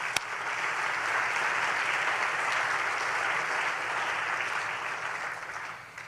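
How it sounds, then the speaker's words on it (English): Dense, steady applause at a lunch session fills the room, holding an even level before tapering slightly at the end. "let's give them all a round of applause"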